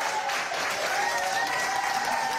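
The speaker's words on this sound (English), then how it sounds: "doctors, nurses, and staff lined the hallways to cheer him on" Hospital doctors, nurses and staff lining the hallways applaud and cheer a Navy veteran leaving Sarasota Memorial after a long COVID-19 stay, a steady, dense wash of clapping with raised voices blended in throughout.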